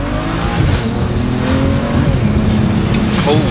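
A BMW fitted with a shift kit accelerates hard, its engine roaring loud and close with steady pull through the gears and tire noise, and a voice faintly under it.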